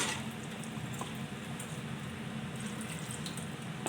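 Water pours steadily into a pot of chicken gravy, making a continuous close splashing rush with a few faint drips and clinks mixed in, and no voices.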